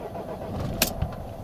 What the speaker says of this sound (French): Donc on va démarrer la voiture